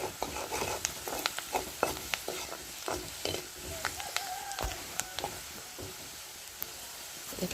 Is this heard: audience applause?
no